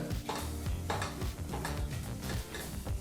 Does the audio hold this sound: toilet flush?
no